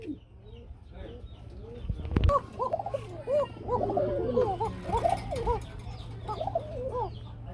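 Domestic pigeons at a pigeon market coo over and over, with many overlapping calls close by, a sharp knock near the start and a low steady hum underneath.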